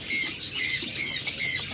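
Pet budgerigars or lovebirds, breeding pairs kept in a cage, squawk and chirp constantly in a dense, overlapping chatter of shrill calls at close range, with no talking.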